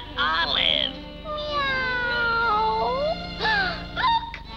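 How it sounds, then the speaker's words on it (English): A black cat meows in a 1956 Popeye cartoon: a few drawn-out, wavering cartoon meows, loud and close, set against the orchestral score. "Look, a black cat."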